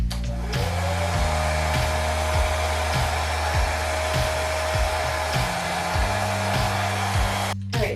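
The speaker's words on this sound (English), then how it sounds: "You can use whatever blow dryer you have. I'm just gonna keep it on low heat" A blow dryer on low heat runs steadily as it dries short hair, a continuous close airy whir with a low pulsing drone under it, with no talk over it.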